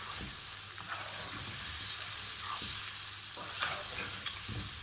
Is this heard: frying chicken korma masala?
yes